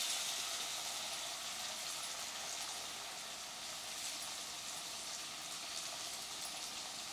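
Onions fry in hot oil for a Mangalorean bangude (mackerel) pulimunchi fish curry, giving a constant, even sizzling hiss that holds steady throughout, fairly soft and close, with no talk.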